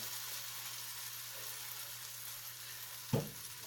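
Vegan breakfast sizzles steadily in an overly hot skillet, a constant close frying hiss throughout with a brief sharp clatter near the end.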